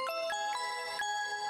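A short chiming phone ringtone in a video game, with bright, bell-like tones repeating in quick steps, clear and close, with no voices.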